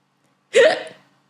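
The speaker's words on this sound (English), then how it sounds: "Suddenly, a big hiccup comes." A single loud, abrupt hiccup-like vocal burst, close by, ending quickly into silence.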